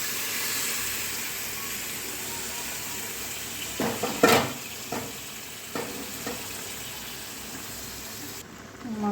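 Meat dropped into a pan of frying onion-ginger-garlic paste: a steady sizzle with a few clattering stirs and bumps, fairly close, with no talking.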